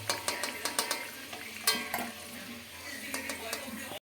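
Potatoes frying in oil as whole spices go in for mutton biryani, with a steady close sizzle broken by repeated sharp clinks and scrapes of a utensil against the pan.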